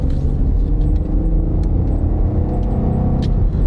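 SUV with a reasonable amount of horsepower accelerates hard on a makeshift road drag strip, loud rumbling engine roar heard from inside, sustained and steady throughout.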